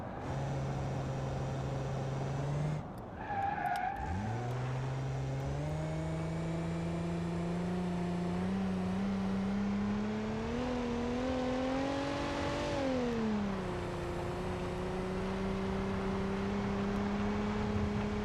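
A battered Wendover car in BeamNG.Drive drones along with a steady engine tone that shifts pitch as gears change and revs climb and ease, close and continuous with no voices.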